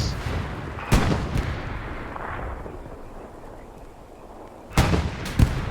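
In the Hell Let Loose video game, tank cannon shots boom and strike a Panzer IV. A heavy blast lands early, smaller thumps follow, and two more loud reports come near the end over a low battlefield rumble.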